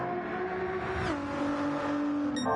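GT race car engine in a racing video game, a steady high-pitched drone that drops in pitch around a gear change, then holds a continuous, fairly close whine.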